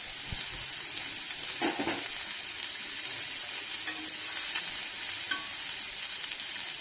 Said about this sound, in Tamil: அது வெங்காயம் லைட்டாக வதக்கிடுச்சு